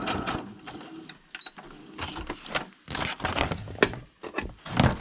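A sewing machine stitches through a paper book page, giving a rapid run of short mechanical taps in bursts with brief pauses, close and fairly clear.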